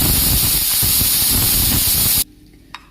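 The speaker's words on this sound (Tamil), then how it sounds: "குக்கர் விசில் போயிடுச்சுங்க." A loud, continuous hiss of steam rushing from a pressure cooker whistle while cooking rice with cowpeas, close up, cutting off abruptly near the end and followed by a faint click.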